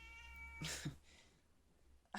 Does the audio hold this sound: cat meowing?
yes